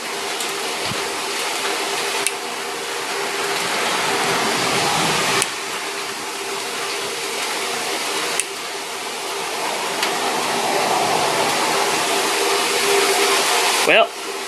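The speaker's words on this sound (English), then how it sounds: "The mill's still running, just roughing in bevels on the mill." A milling machine roughing bevels runs with a steady, loud mechanical whir throughout, broken by a few sharp clicks and knocks.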